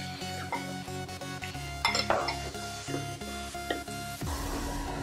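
Spatula stirring soy sauce, vinegar and pepper into chicken fried rice in a pan, a steady run of scraping and clinking strokes over a soft sizzle, with a louder clatter midway and no talk.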